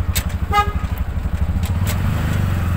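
A car horn gives a short toot over a steady engine rumble, with a passing vehicle hum throughout.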